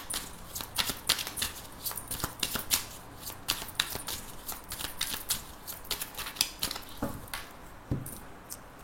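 Oracle cards are shuffled by hand for a reading, a run of quick papery riffles and soft slaps in an irregular rhythm, close up and moderately quiet, with no talking.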